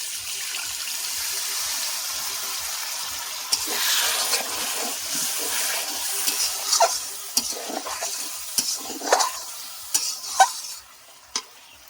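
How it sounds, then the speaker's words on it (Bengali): Biryani spice masala with sour yogurt and a little water sizzles in a pan, with a steady frying hiss and repeated scraping stirs that grow louder and more frequent toward the end, and no talking. "কষিয়ে নেবো মশলাটা।"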